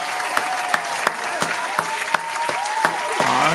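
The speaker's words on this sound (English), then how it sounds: "Round of applause to Stu Sims." A small audience applauds steadily for a guest on a talk show, giving an even wash of clapping. Sharp periodic thumps or claps stand out above it, and a voice carries faintly underneath.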